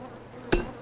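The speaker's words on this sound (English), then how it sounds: "Oh, that's a wasp nest. I don't like wasp nests." Buzzing from a wasp nest in the video game Don't Starve Together, a short loud burst of insect drone rising over a quiet ambient background.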